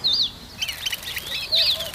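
A small bird at a bird bath gives a few bright, rising chirps and warbles, with short pauses between calls, clear and close over a soft background hiss.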